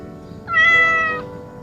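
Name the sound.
cat meowing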